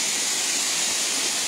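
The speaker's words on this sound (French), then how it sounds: "C'est la petite cascade du village." A small village waterfall gives a close, steady, bright hiss of falling water with no pauses.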